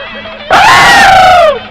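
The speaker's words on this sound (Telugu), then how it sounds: "వీడెందుకండి జురాసిక్ పార్క్ సినిమా చూసిన లెవెల్ అరుస్తున్నాడు?" A man screams loudly in a Telugu comedy film scene: one sustained cry of about a second that starts abruptly and slides downward in pitch, loud and close over a quiet background.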